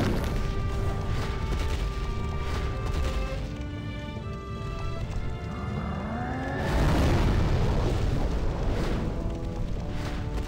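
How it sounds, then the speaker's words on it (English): Flame Lurker boss unleashing fiery explosions in the video game Demon's Souls: a layered game soundscape with a loud, rough blast erupting partway through and rolling on to the end. "he'll just kind of rush you with the explosions and do multiple at once"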